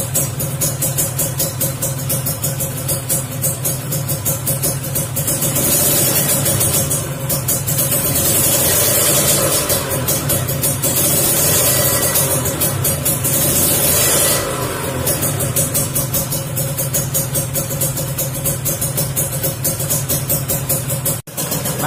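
A Kawasaki Ninja R two-stroke motorcycle engine, with its power valve still active, idles with a rattly buzz, then revs twice in short bursts and settles back to idle, close and steady.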